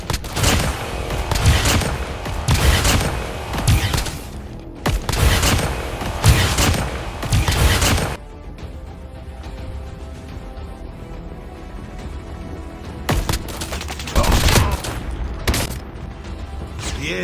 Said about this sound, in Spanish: podemos comenzar a detonar nuestros perdigones de esta misma forma